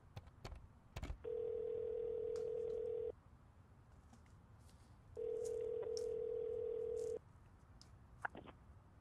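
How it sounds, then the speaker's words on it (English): Two long, steady electronic tones from a telephone call placed in a video game, each lasting about two seconds with a pause between, like a ringback tone, clear over a quiet background. "let me try calling the number from the pamphlet"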